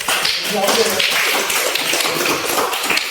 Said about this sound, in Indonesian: Ya, tepuk tangan buat tujuan itu.